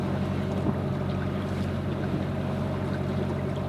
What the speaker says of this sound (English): I hate the sound of the engine. It just drones on and on and on.